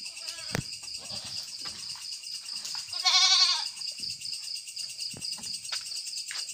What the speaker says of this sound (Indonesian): Ini kambing jumbo.